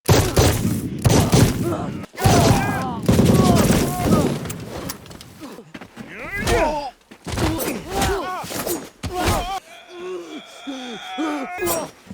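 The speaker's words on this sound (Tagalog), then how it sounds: "biglang binaril ni Jessica ang isa sa kanila mula sa malayo" Gunshots and heavy thuds burst out during a violent fight scene, loud and close, mixed with shouting voices, impacts and a sharp shatter-like crash, then a quieter stretch of voices near the end.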